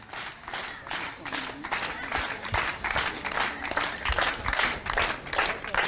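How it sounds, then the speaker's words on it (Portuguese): Crowd at a protest by family members demanding justice breaks into sustained applause, dense and steady clapping throughout with scattered voices and movement mixed in. "Esse barulho, essa salva de palmas"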